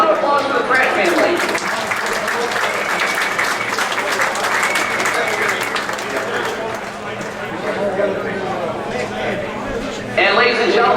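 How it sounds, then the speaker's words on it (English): Crowd applauding at Oswego Speedway during driver introductions for the Race of Champions, sustained loud clapping and cheering from a large audience in the grandstands, rising again at the end. "Round of applause for the Pratt family."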